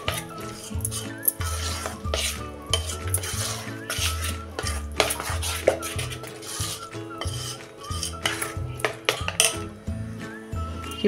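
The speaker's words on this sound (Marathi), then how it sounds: "ही फोडणी हे आता आपण चांगलं असं मिक्स करून घेऊया।" A spoon stirs tempering into poha idli batter in a metal bowl, with steady scraping and clinking of cutlery against the vessel throughout, close and fairly loud, no talking.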